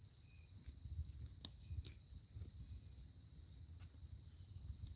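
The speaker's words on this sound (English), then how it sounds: "there's crickets everywhere" Crickets trill on a homestead with cows, a steady high-pitched chorus running continuously and fairly quiet, with a few faint soft knocks and low rumble underneath.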